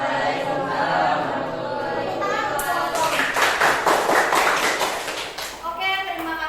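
Students applaud in a classroom after a group presentation, brisk clapping bursting in and filling several seconds before tapering off, with a voice speaking before and children's voices around it.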